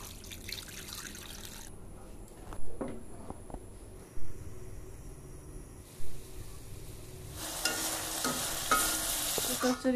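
Small fish with mustard oil in a pan as water is added, quiet stirring and scraping with a few sharp knocks, then a rising hiss and bubbling sizzle toward the end.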